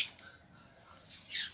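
New pet birds, including a yellow bull and personata parrots, chirp from a breeding cage in a few short, high tweets separated by a quiet pause.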